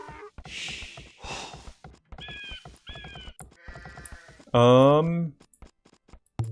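Sheep bleat in an Age of Empires match, with one loud, clear bleat standing out and fainter animal calls around it, heard under steady commentary.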